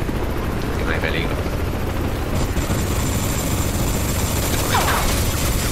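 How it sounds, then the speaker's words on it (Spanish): A helicopter in the Crysis 3 shooter game, a continuous loud rotor roar that fills the scene, with faint distant gunfire and brief whooshing sweeps on top. "El helicóptero, mierda."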